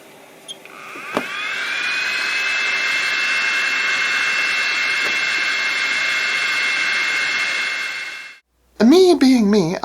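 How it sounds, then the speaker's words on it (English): Cooling fans on a modified Ender 3 3D printer spin up after a click into a loud, high-pitched steady whine, run for several seconds, then cut off abruptly before a voice talks. "I soldered the wires together, fired up the fans"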